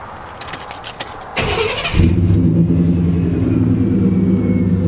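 A 1993 Chevy Silverado truck fitted with a new muffler system cranks for about a second, then fires up and settles into a loud, steady, deep idle.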